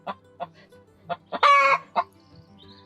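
A Light Sussex hen clucks nearby in a quick run of short, evenly spaced notes, breaking into one louder drawn-out squawk midway before settling back to a couple of clucks.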